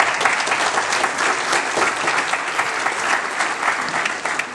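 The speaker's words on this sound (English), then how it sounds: "I would like to publicly thank him right now with a round of applause" An audience at a conference opening plenary gives a sustained round of applause, loud and steady clapping from many hands filling the room without pause.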